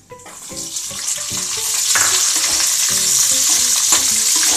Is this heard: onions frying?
yes